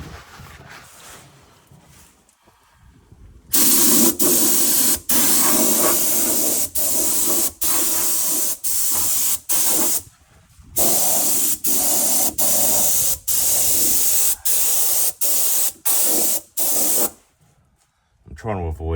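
Repeated bursts of a spray gun hissing loudly as it sprays thinned rust-proofing fluid under an LDV T60, a dozen or so short blasts separated by brief pauses, close by.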